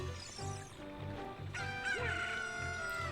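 A rooster-like cucco crows loudly over rhythmic game music in The Legend of Zelda: Ocarina of Time, one long rising cock-a-doodle-doo cry with clucking tones, close and clear.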